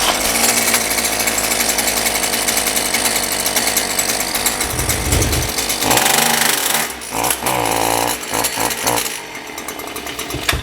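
A Stihl two-stroke hedge trimmer engine runs loud and close, hollow and lacking power, with a rough, rattling drone whose pitch wavers as it is revved and eased off.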